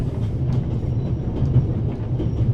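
Steady rumble and rhythmic clatter of a train rolling along rails, continuous and fairly loud with no voices.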